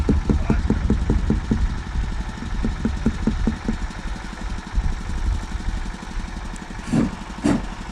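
A tractor engine running nearby at an outdoor gathering, a steady low chugging drone with rapid rhythmic pulses, with a voice speaking over it near the end.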